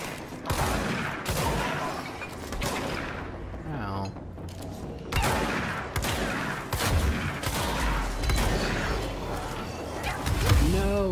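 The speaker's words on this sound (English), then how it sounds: "that gun does a lot of damage" Gun firing in the game Control, dense bursts of loud shots and mechanical clatter in rapid succession, with someone talking over them.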